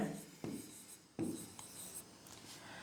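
Chalk or marker strokes on a board as a math solution is written out, a few distinct scratchy strokes with short gaps, fairly quiet and close, with no talking.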